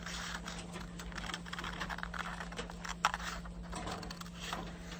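Scissors cutting a seam allowance through a sewing pattern, a continuous faint snipping and paper rustle over a steady electrical hum, no voices.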